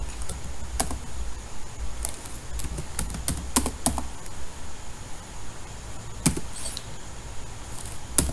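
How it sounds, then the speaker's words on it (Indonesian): Someone types on a computer keyboard, producing scattered sharp clicks in irregular bursts with short pauses, close and moderately loud against a faint steady hiss. "Kemudian kita ketikkan cd academic"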